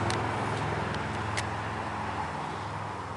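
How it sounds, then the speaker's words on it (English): Road traffic passes near a wooded foraging spot, a steady broadband rumble and hiss from a passing car, fairly close, fading slightly toward the end, with no voices. "Noisy goddamn traffic."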